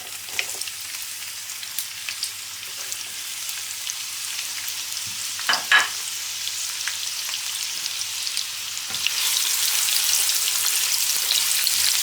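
Onions dropped into hot oil, first crackling softly with a few scattered pops and a brief clatter, then the sizzle swelling louder and steadier toward the end, with no voices.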